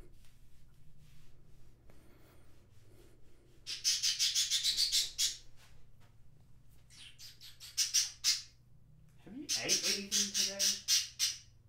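A pet bird gives loud, harsh squawks in several rapid repeated bursts separated by quieter gaps, close by, over a low steady hum, with a voice talking briefly.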